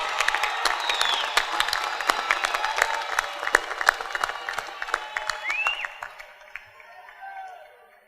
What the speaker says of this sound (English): Let's all give your family members a big round of applause.